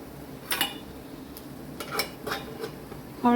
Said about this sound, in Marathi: परतते मी.